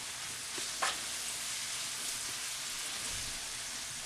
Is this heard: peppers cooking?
yes